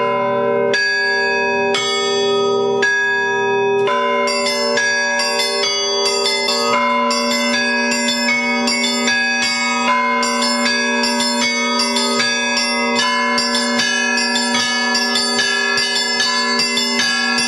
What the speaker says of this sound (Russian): можно было не только насладиться переливами колокольного звона